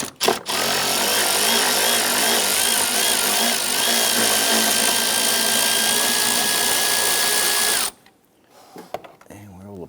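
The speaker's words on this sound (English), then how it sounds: "Using our extension and swivel socket, we're going to go ahead and get to this upper back bolt." Continuous loud whirring of a power tool driving a socket on an extension and swivel to remove an upper back bolt on a 2011-2021 Jeep Grand Cherokee 3.6L V6, running steadily for about eight seconds then stopping abruptly into quiet clatter.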